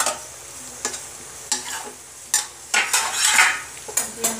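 Vegetables for veg biryani cooking in a pan, a soft sizzle underneath as a spoon scrapes and knocks against the metal in irregular stirring strokes, close by and without speech.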